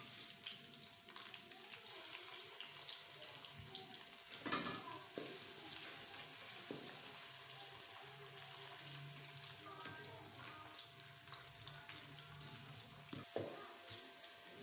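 A large chopped onion fries in a pan for egg masala, a faint, steady hiss of sizzling oil with occasional soft clatters of stirring, heard quietly and without talking.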